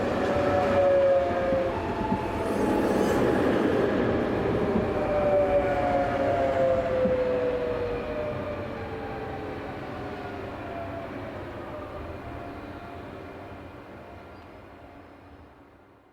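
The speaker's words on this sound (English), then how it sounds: "Finally, Unit 2211 enters with a train from Luxembourg City." Luxembourg Unit 2211 train arriving from Luxembourg City, a loud rumbling approach with a drawn-out tonal horn or wheel squeal that gradually fades as it passes, heard alone without talk.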